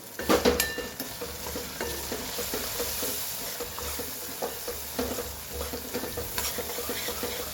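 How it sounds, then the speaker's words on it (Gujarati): Masala spices with hot chilli, Kashmiri chilli and dal sizzle steadily in a pan, broken by scraping, clinking stirs close by, with no voices over the cooking. "થોડી મસાલાને ખવા દઈએ"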